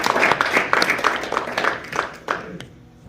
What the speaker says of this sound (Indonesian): Tepuk tangan untuk ibadah kita.